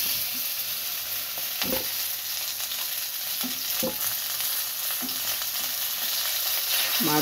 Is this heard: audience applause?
no